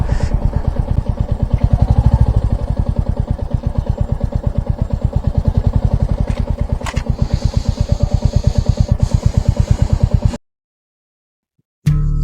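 A motorcycle on a solo long-distance ride along a hilly, up-and-down mountain road, its engine thrumming in a loud, steady, rapid rhythm close by for about ten seconds before a brief silent cut.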